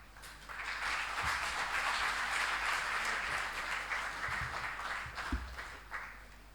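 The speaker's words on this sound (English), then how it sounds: "Can we request a louder cheer from the audiences, please?" Sustained applause from an audience at a university book launch in Delhi, a dense wash of clapping lasting throughout, fairly even in loudness with a few sharper claps near the end.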